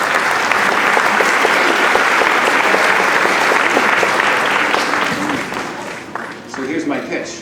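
Sustained applause from an audience at a school third-grade chorus concert, honoring the parents, a dense steady wash of clapping that holds, then thins and softens near the end with a voice faintly over it.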